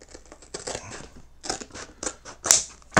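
Wood veneer for a speaker cabinet is being cut, producing a string of close, crisp snipping and slicing sounds in irregular bursts, with a sharper cut near the end and no voice.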